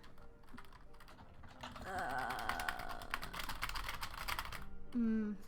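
Rapid typing on a computer keyboard, a steady patter of key clicks close by, with a faint voice briefly at the end.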